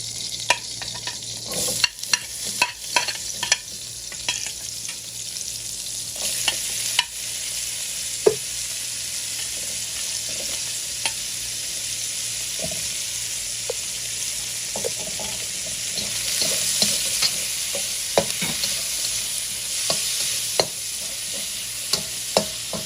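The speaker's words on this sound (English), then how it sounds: "I'm adding a little bit more oil, and I'm going to add all these veggies." Vegetables stir-fried in hot oil in a pan for spicy shrimp lo mein give a steady close sizzle, broken by sharp scraping clacks of a utensil stirring through the whole stretch, with no talking.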